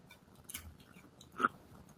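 A bite into a BariatricPal pizza-flavored protein chip gives a couple of faint, brief crunches, close up and quiet, with no talk over it.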